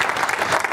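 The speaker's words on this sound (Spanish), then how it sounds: "Demos un aplauso al Señor" Church congregation applauding during a Spanish-language sermon, a dense steady clapping from a crowd, brief and fairly loud.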